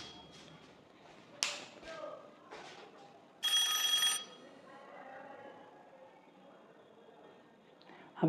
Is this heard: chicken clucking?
no